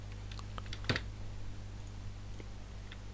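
Typing on a computer keyboard, a few soft scattered key clicks with one louder tap, over a low steady hum.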